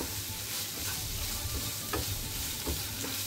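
Onions sizzle in a hot pan for chicken cafreal as a spoon stirs them, a steady frying hiss broken by a few soft scraping strokes, close and fairly quiet with no talk.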